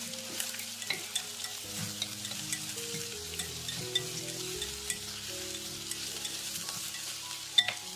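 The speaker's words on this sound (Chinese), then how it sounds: "加入香菇块翻炒，将香菇翻炒至变软" Shiitake mushroom pieces are stir-fried with scallion and ginger in hot oil in a clay pot, a soft continuous sizzle broken by light scraping stirs and occasional ticks, close but quiet.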